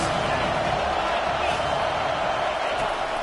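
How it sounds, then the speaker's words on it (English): A stadium crowd at a college football game, a dense, steady roar of cheering on a big third down that holds at constant loudness throughout. "Big third down as the crowd gets behind this defense."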